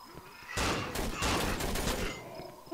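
Gunfire in the horror video game Cry of Fear: a loud, dense burst of rapid shots that fills nearly the whole stretch, dropping away briefly near the end.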